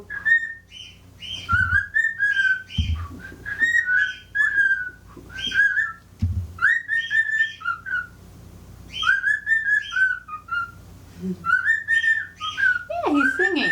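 Pet bird whistling in repeated bright, sliding phrases separated by short pauses, close and clear, with a few low thumps and soft background noise between the whistles.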